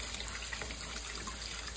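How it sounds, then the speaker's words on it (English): Tap water runs steadily into a sink while fresh fruit is washed, a close, even rushing hiss with faint splashes and no pauses. "I'm washing them."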